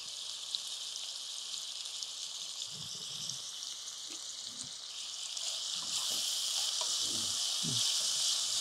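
Onions and capsicum sautéing in a pan for a mushroom masala, a continuous bright sizzle that grows louder partway through, with a few soft stirring knocks, no talking.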